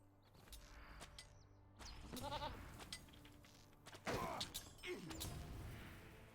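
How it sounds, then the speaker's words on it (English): A goat mount in the online game The Lord of the Rings Online lets out several nasal bleats, close and moderately loud, over a faint game ambience with clicks and mechanical noises. "Your goat made a funny sound."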